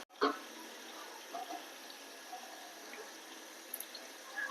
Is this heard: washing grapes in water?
yes